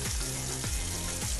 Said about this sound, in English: I'm gonna actually strain the rice now.